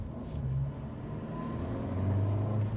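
Low, steady engine rumble from inside a 2023 Acura Integra A-Spec with a performance clutch while driving, faint and even, with no talk.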